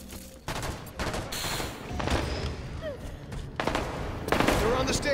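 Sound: gunfire headshot in Halo 5 video game

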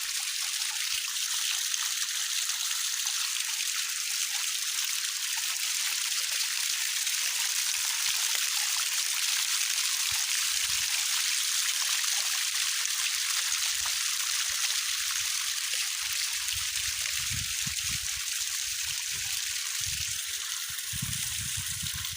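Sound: small waterfall, flowing water

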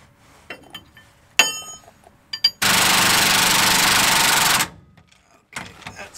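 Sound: impact gun loosening Ford F550 leaf spring bolts

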